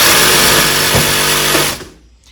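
Flex reciprocating saw running at the business end during a vibration test, a loud buzzing, rattling drone that holds steady for about a second and a half and then cuts off abruptly.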